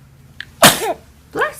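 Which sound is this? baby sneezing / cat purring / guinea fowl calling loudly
baby sneezing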